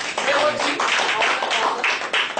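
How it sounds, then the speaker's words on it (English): Audience clapping at a coaching exploration event in Kuala Lumpur, a quick burst of many hands with some clearly separate claps, heard briefly and fairly close. "Give them a big round of applause."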